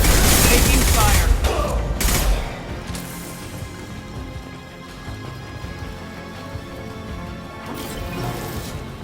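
Gunfire from a combat firefight in the game Mass Effect, loud bursts of rapid shots and impacts at the start, easing into a quieter rumbling backdrop with a later flare of fire and a shouted voice.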